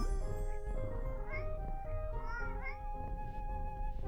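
A kitten meows repeatedly in a video game, several short rising cries over looping game music, fairly clear and close.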